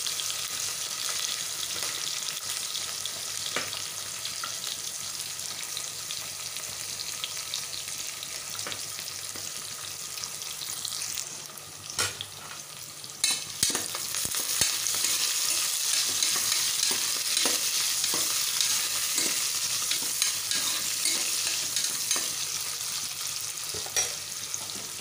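Onion, dried red chillies and curry leaves fry for khichdi with a steady, loud broadband sizzle throughout, broken by occasional sharp scrapes and stirs of a spoon in the pan, a brief dip near the middle, then louder again.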